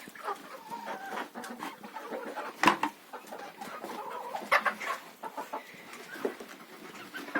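Chickens cluck and chatter softly at close range in a henhouse, with scattered short calls over a quiet background.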